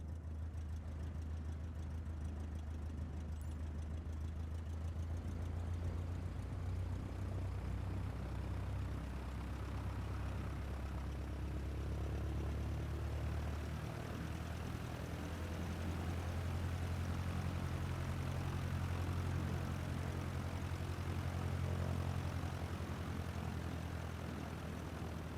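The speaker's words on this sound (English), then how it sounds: "Slowly taxi onto the runway and align the plane with the center line." A propeller airplane taxis onto the runway in Microsoft Flight Simulator 2020, its low engine drone steady and rumbling throughout with a faint rise in the middle, no voices over it.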